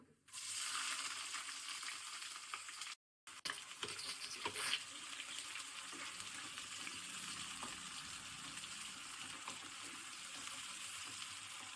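Chopped onion frying in hot oil with whole garam masala and dried red chillies for chicken ghugni, producing a loud, dense, continuous sizzle that cuts out for a moment near the start and then runs steadily to the end, with no talking.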